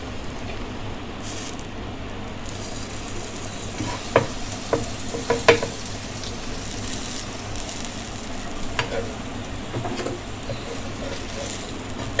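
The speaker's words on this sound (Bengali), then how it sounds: "আমি আরেকটু বাটার দিচ্ছি।" Butter sizzling in a pan while Mumbai-style street food fries, a steady crackling hiss with a few sharp spatula taps and stirring clinks over it.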